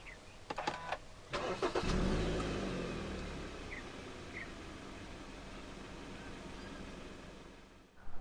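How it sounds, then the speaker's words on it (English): A 2014 Hyundai Santa Fe 2.4 4WD Elegance starts by push button: a few clicks, a short crank, then the engine catches and settles into a quiet steady idle. "Put your foot on the brake and press the start button to the left of the steering wheel."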